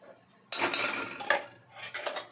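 A metal spoon clinking and scraping against a pan while oil and ghee go in over a gas flame, several sharp close clinks in short bursts with quiet gaps and no voices.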